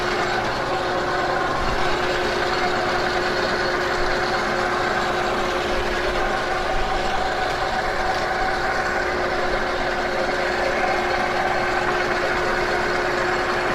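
Lathe in a home workshop running with its coolant pump switched on, a steady machine hum and whir that stays constant and close throughout, with no talking.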